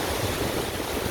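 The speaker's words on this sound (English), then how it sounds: "It's windy" Strong wind blows outdoors, a loud rushing roar buffeting steadily with no voices.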